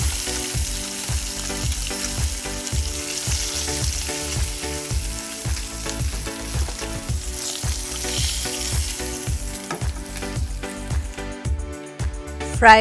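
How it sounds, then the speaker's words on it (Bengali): Small puti fish fry in hot oil in a pan, a steady close sizzle broken by frequent clattering and scraping of a utensil, with a faint voice in the background. "সবগুলো মাছ একইভাবে ভেজে নিব ফ্রাই"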